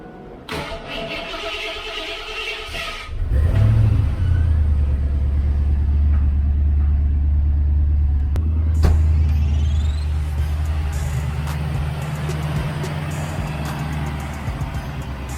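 A Ford Mustang Foxbody, freshly fitted with new injectors, cranks briefly and fires, then settles into a loud, close, steady idle with a deep rumble and slight fluctuations.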